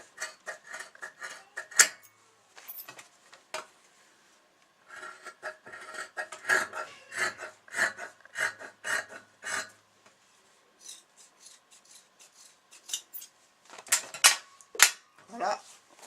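Scissors snip through denim jeans being cut into shorts, a close series of quiet, irregular crisp cuts and rasping crunches with short pauses between runs.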